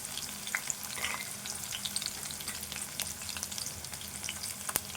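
Onions and green chillies sizzle steadily in a pan for a potato fry, with occasional scrapes and clicks of stirring over a continuous frying hiss, close and alone.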